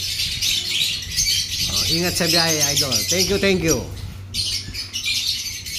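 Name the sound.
birds chirping and squawking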